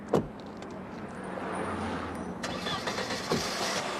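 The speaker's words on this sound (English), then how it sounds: "The car started," Mercedes car engine starting: a quick cranking sound, then the engine catches and settles into a steady, close running hum, with a couple of brief clicks near the start and end.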